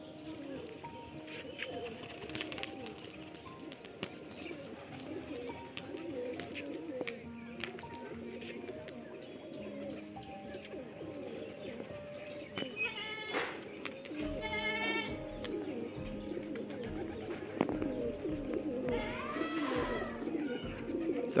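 Pet pigeons show off their tricks nearby, giving soft, low cooing calls under a murmur of background voices and a bleat-like call, faint and continuous throughout.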